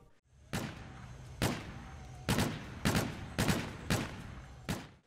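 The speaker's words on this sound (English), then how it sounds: "the Locust is definitely a good sounding gun" Locust sniper rifle in Black Ops 3 firing seven sharp, loud, evenly spaced shots, each a crisp crack with a short decaying tail, heard alone over a quiet background.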